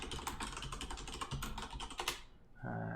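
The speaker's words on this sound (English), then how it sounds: "Nice clicky keyboard." Someone types fast on a clicky computer keyboard, close and crisp, in a dense run of keystrokes with no talk, and then the typing gives way to a steady low hum.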